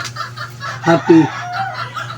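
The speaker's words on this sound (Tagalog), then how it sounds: "Yun, mga manok." Chickens clucking nearby in a short burst of two or three calls, over a steady low hum with faint background sounds.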